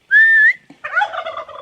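Farm turkeys answer with one loud, close gobble: a drawn-out warbling call followed by a burst of rapid, bubbling gobbles, with no talking.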